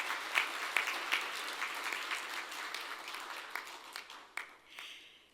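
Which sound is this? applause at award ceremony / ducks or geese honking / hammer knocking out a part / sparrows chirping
applause at award ceremony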